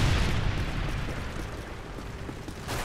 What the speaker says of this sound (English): Friendly Predator missile inbound.